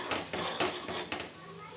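A spoon stirs curd into an okra curry in a pan, making several close, rhythmic scraping strokes against the metal over a steady background hiss.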